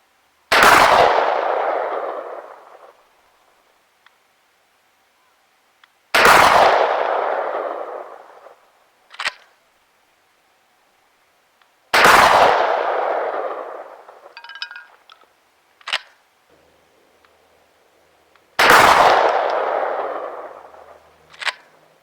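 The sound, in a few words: 12 gauge shotgun slugs fired at long range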